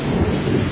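Cartoon thunderstorm with heavy rain, a loud, dense rumble of thunder rolling over a steady roar of downpour, brief and continuous with no voices.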